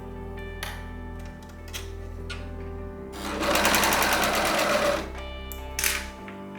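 A sewing machine stitches a turtleneck shirt in short starts and stops, then runs in one louder, sustained burst of rapid needle clatter before slowing again, with a steady background hum throughout.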